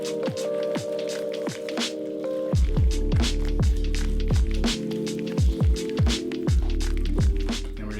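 Honey, milk, water and instant yeast being whisked together in a bowl, a rhythmic series of wet, sloshing strokes following a low hum at the start, close and fairly loud with no talking.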